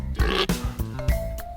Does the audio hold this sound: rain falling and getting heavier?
no